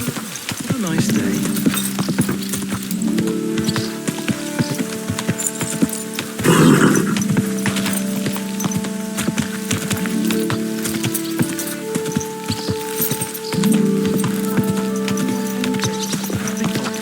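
Horse hooves clip-clop steadily and a horse neighs in the medieval world of Kingdom Come: Deliverance II, with game music and a voice speaking over the close, continuous hoofbeats.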